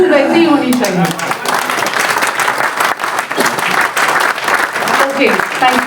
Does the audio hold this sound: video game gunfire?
no